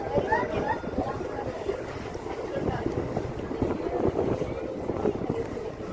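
Steady wind buffeting the microphone on a moving boat at Parassinikadavu, with low rumbling engine and water noise throughout and occasional voices faintly underneath.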